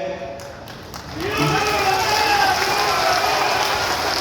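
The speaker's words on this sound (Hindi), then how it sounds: "जो तालियों की गड़गड़ाहट की आवाज सुनाई दे रही है" Cheering, chanted slogans and applause from a large crowd at an outdoor election rally, rising after a quieter start into a loud sustained roar of voices and clapping.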